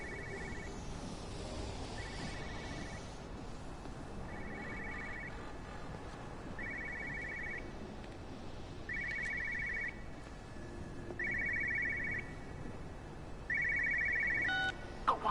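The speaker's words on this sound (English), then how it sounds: "here's a phone somewhere" Telephone ringing in the video game Everybody's Gone to the Rapture: repeated electronic ring bursts at a steady pace, about seven in a row, each a short trill, growing louder toward the end over a constant ambient hum.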